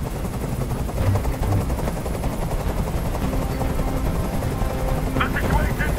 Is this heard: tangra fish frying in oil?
no